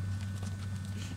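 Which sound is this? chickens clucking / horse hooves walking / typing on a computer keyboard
horse hooves walking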